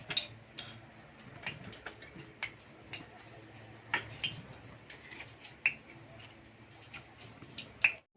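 Mustard seeds pop in hot oil in a kadhai while tempering for spicy stuffed capsicum, giving sparse, sharp little cracks at irregular intervals over a quiet, faint kitchen background.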